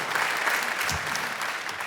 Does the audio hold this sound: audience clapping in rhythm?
yes